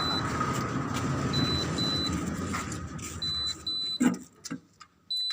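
A Centurion D5 motorized gate motor runs with a steady mechanical hum and whine, broken by short electronic beeps, before the motor cuts out and a few clicks and knocks follow.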